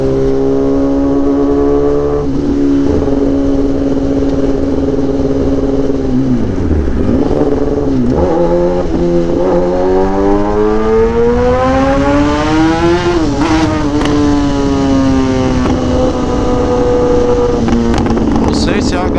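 Motorcycle fitted with a new AC Exhaust tip, the engine droning loud and close as it rises and falls through the revs while riding, with pitch sweeping up and down through gear changes and wind noise throughout.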